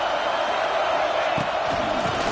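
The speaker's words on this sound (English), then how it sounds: "The roar of the crowd trying to fuel this defense to keep them pinned in their own end." Steady crowd roar in the College Football 26 video game, a broad, continuous stadium din with a few thuds and shouts poking through near the end.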